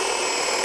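A Ryobi 18V ONE+ HP brushless half-inch hammer drill bores a 7/8-inch hole, giving a steady, loud, close whir under load with no voices over it.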